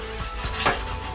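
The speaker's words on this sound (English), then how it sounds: "I'm gonna cut this in half" A knife slicing through an omelet on a board during breakfast cooking, a single close, brief cutting stroke with a soft thud, set against a low kitchen background.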